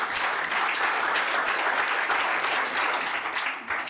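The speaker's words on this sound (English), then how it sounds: "Give her a clap, guys" Audience at a scale-up entrepreneur conference round table breaking into sustained applause, dense and fairly loud throughout and tapering off at the very end.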